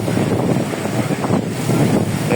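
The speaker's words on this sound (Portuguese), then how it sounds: "Aí essa ventania é muito vento mesmo aí." Strong wind batters a boat at sea on a rough final leg of a voyage, a constant loud rushing roar buffeting the microphone with sea wash underneath and no pauses.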